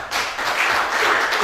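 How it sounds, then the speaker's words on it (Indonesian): Church congregation applauding during a Sunday worship service, a short dense burst of clapping from many hands at moderate distance. "Tepuk tangan bagi Tuhan."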